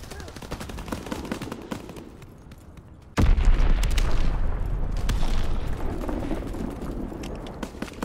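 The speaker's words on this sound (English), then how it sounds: "Enemy bomb incoming." Bomb blast in Call of Duty: WWII, a sudden loud boom that cuts in midway and rumbles on over scattered gunfire and battle noise on an Egypt map.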